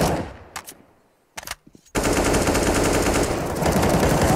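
Rapid rifle gunfire in a Counter-Strike match on de_inferno, with a few scattered shots first, then a dense, loud, sustained burst of automatic fire that continues to the end.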